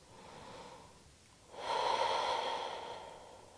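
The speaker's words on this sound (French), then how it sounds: "Il suffit de quelques respirations conscientes pour déjà venir redescendre." A single deep, audible breath is taken during a French vinyasa yoga session. It starts with a softer inhale, followed by a fuller, airy exhale close to the microphone.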